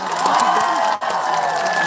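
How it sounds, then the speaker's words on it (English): A crowd cheers and applauds continuously, dense and bright, with a momentary dip in the middle. "big round of applause"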